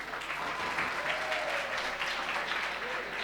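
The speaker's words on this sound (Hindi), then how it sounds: "ताली बजाइए" An audience at an Urdu mushaira poetry gathering claps in steady, dense applause throughout, with a faint murmur of crowd voices underneath.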